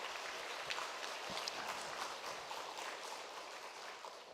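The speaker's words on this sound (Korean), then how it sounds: "우리가 진심으로 뜨겁게 환영의 박수를 드리겠습니다" A church congregation claps warmly to welcome newcomers at a Sunday worship service, a dense, steady patter of many hands that fades slightly toward the end.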